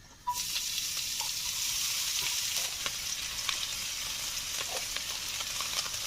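Steady hissing sizzle of cabbage frying in oil in a pan, starting abruptly and continuing with small crackles and pops throughout.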